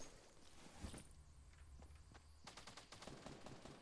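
Gunfire in the Fortnite battle royale game, a burst of rapid shots near the start followed by a denser volley of quick repeated shots in the last second and a half, over steady game ambience.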